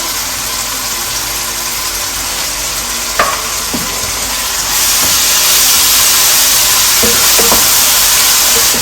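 Fish curry sizzles and bubbles in a pan while a spoon stirs it, giving a loud continuous frying hiss with occasional scraping knocks against the pan, growing louder partway through.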